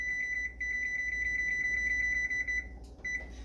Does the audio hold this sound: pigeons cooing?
no